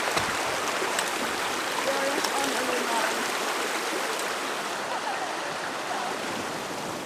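A clear mountain stream in the Altai mountains of Mongolia rushes close by, a loud, steady hiss and burble of flowing water that holds evenly from start to finish.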